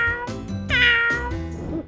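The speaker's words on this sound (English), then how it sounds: "Cat meows." A cat gives a couple of clear, close meows, one short and one longer and rising, loud with no background noise.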